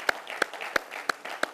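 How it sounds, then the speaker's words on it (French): Steady, evenly spaced claps, about three per second, ring out at a judo club ceremony honouring a new black belt, sharp and distinct against a quiet room. "Je pense qu'on peut l'applaudir bien fort encore une fois."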